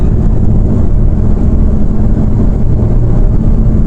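A Hyundai i20 diesel engine runs after timing work, giving a loud, steady, close-up rumble with no pauses.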